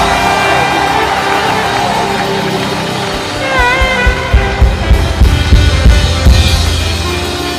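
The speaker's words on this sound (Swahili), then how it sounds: "Pigie makofi mpaka afike jamani. Shangwe na vigelegele." A congregation at a prayer summit cheers, clapping, shouting and ululating loudly to welcome a speaker, a dense close roar of voices with rising applause claps toward the end.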